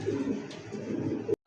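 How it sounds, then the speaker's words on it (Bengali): A pair of satin pigeons gives soft, low cooing, a few murmuring calls close by at modest volume, before the sound cuts off abruptly. No speech is heard. "চমৎকার একজোড়া কিন্তু শাটিন কবুতর"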